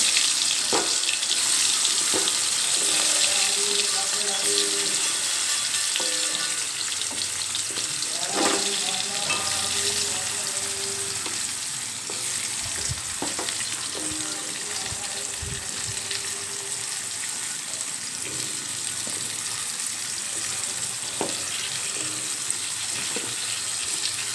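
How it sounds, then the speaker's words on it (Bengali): Pumpkin pieces frying in hot oil in a wok give a steady crackling hiss that runs throughout, with occasional stirring knocks and scrapes, close and even, no talk. "এই তেলের মধ্যেই ভাজার জন্য মিষ্টি কুমড়োগুলো এক এক করে দিয়ে দেবো"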